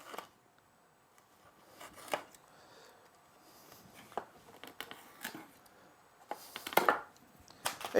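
A knife cuts and snaps through the wood of a box lid, giving irregular sharp crackling bursts and scraping cuts with quiet gaps between them, close by.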